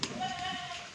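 Goats bleat with a wavering, drawn-out cry while being loaded onto a cargo truck for Qurbani, the call fairly close over a busy background.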